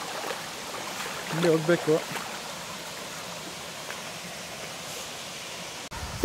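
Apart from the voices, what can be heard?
waterfall in Coorg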